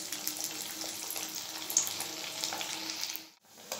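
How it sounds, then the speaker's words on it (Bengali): Khichuri cutlets deep frying in plenty of hot oil on a low flame, a steady close bubbling sizzle with crackling bursts that briefly drops away near the end. "কাটলেটগুলো ডিপ ফ্রাই করবো, তার জন্য একটু বেশি পরিমাণে তেল দিচ্ছি"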